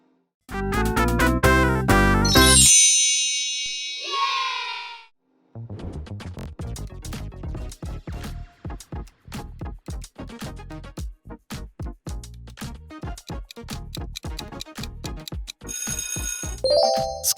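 Skittles logo jingle, a bright electronic melody of bell-like chimes and plucked tones, starting with a loud sustained chord, a brief gap, then a quick rhythmic run of notes ending with a high sparkle, with no talk.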